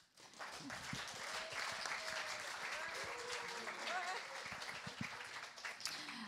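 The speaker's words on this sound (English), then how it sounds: "Let's give them a big clap." Audience at a university video-game degree presentation applauding, sustained clapping from a crowd with a few voices mixed in, fairly faint overall.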